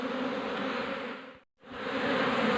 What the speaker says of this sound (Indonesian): untuk koloni lebahnya ini sudah kembali lagi ke dalam kotak.